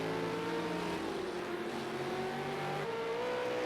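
V8 Supercar racing at Ruapuna Park, an engine note droning and shifting pitch as the car accelerates and changes gear, loud, steady and continuous with no voices.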